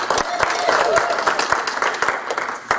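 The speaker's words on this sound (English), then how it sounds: "Round of applause for Sarah Smith." Audience applause at a Send Out Cards Super Saturday event in Fresno, a steady burst of many hands clapping at close range, with voices mixed in beneath it.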